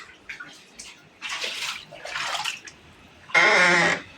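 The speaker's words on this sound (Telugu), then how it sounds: "చూడండి ఇల్లంతా నీళ్ళు ఎట్లా వచ్చినాయి వర్షం పడేసరికి" Rainwater pouring and splashing into a flooded house during monsoon rain, with bursts of rushing water and a louder, steady gush near the end.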